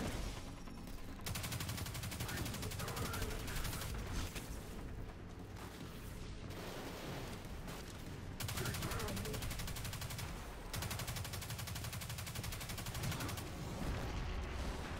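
Rapid SMG fire in Destiny 2 rattles in long sustained bursts with brief pauses between, loud and close, mixed with impacts and mechanical effects, while a voice talks underneath.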